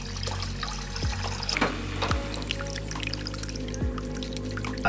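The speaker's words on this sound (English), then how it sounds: "I'm going to fill it up with water and we'll do a little water test." Water pours and splashes steadily into a waterfall paludarium tank lined with weed mat, with a few louder drips and trickles standing out over the continuous rush.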